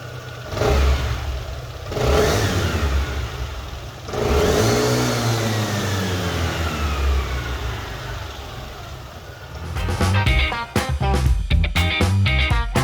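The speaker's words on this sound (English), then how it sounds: "The exhaust was on the quieter side. Let's have a listen." A 2023 Aprilia SR GT 200 scooter's quiet exhaust idling and being blipped, with a low steady engine drone, a rising rev sweep, then sharper revving pulses near the end.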